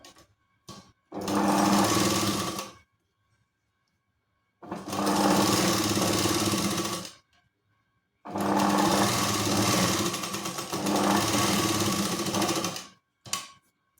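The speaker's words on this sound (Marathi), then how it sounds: "तर याला देखील आता आपण मार्जिन सोडून टीप देणार आहोत." A sewing machine stitches the loop strip of a Katori blouse in three sustained runs of rapid, close mechanical clatter, separated by short pauses of silence, with a brief final burst at the end.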